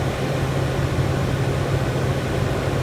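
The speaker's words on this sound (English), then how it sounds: "now I'm just going to stick the recovery unit on for a few minutes" Refrigerant recovery unit running on a walk-in cooler service call, a steady, even mechanical hum and hiss with no breaks, moderately loud and close.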